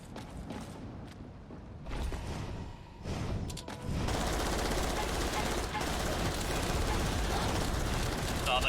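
Heavy machine gun fire in the sci-fi shooter Natural Selection 2, a dense sustained burst that grows louder and fuller partway through, with other game noise and a voice talking over it.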